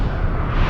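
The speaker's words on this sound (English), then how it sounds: "That is a heck of an explosion." A huge explosion from The Expanse, Season 1 Episode 8, "Salvage": a loud, dense, rumbling roar fills the whole short stretch without a break.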